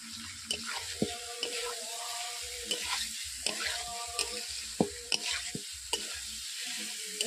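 Jackfruit pieces stir-fried in spice masala in a pan for a curry, with steady sizzling broken by repeated scraping spoon strokes and clinks against the pan, close and moderately loud, no talking.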